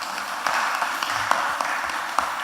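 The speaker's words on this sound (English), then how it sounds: "Give them a round of applause." Audience applause for the MTW team at a national traffic consultation, a steady dense wash of clapping from a crowd filling the whole short stretch at moderate loudness, with no talk over it.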